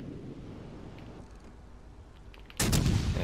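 Naval gunfire from a battleship in World of Warships Legends, a sudden heavy cannon blast near the end that follows a low, windy ambient rumble, loud and close.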